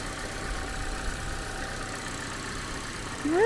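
A turbo 1.4-liter car engine idles steadily with a low, even hum, ending in a brief rising whine as it revs slightly.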